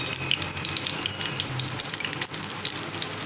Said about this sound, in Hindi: अब हम अपने इसको जो है वो नीम गरम घी में डालेंगे।